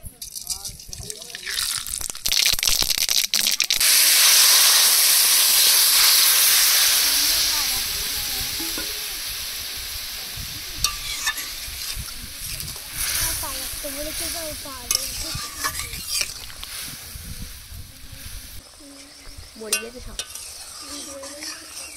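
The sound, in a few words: white mustard seeds tempering in hot oil for a sour dish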